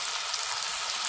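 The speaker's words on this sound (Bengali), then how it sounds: "এখন মাংসটা ভালো করে কষে নেব।" Chicken meat fries with spices in oil for biryani, a close, dense, even sizzle and hiss filling the brief moment without pause.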